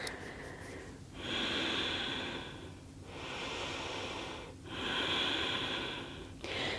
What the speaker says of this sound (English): Last 2 breaths.